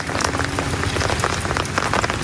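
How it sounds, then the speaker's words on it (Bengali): Steady rain falls outdoors on a wet cooking spot in a Bangladeshi village, a dense, continuous patter of drops on surfaces, close and fairly loud with no voices. "আর সকাল থেকে এখন পর্যন্ত বৃষ্টি হইতেছে।"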